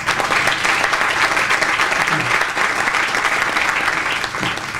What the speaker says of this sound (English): I'm going to ask our city council members that are here to stand and receive a round of applause.